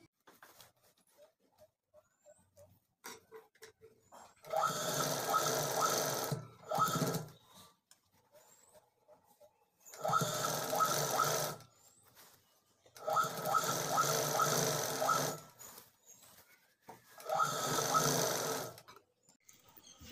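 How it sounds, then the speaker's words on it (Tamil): A sewing machine stitches round the top of an old frock in four steady bursts of a few seconds each, separated by quiet pauses, close and clear. "இதை ஃபுல்லாக ரவுண்டாக தையல் போட்டு வரணும்"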